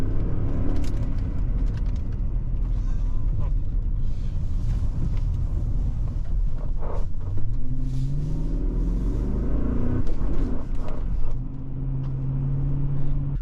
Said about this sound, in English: A little bit of off-roading here.